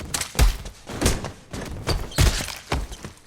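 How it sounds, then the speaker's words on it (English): Punches and thuds from fight-scene sound effects for an action show, a series of heavy, close, irregularly spaced impacts with sharp cracks and lighter thumps between them. "Punches, thuds, things breaking, and sneakers squeaking."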